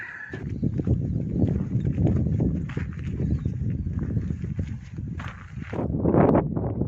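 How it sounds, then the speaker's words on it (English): Hooves clip-clop steadily on the ground as a brumby walks nearby, with rustling and outdoor noise around it. "Horse. Brumby."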